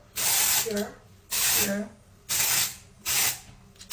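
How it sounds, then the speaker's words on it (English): HALOVIDA dry shampoo sprayed onto hair in four sharp hissing bursts of about half a second each, evenly spaced and close, with a brief spoken word between them. "So spray it on the deep part of my hair."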